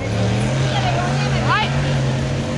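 A pickup truck's engine roars steadily in a 4x4 jalopy race final, a loud, sustained drone heard from the stands while a commentator talks over it.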